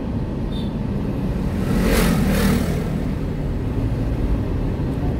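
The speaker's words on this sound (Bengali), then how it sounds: "বাইক আসতেছে খালি।" A motorbike passes on a narrow Amalfi coast road, its engine swelling briefly near the middle above a steady drone of road and engine noise.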